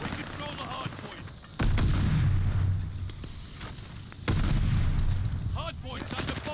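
Gunfire around the hardpoint in a Call of Duty: Vanguard multiplayer match, two heavy sustained bursts of shooting and booms at close range with game voices calling out in between.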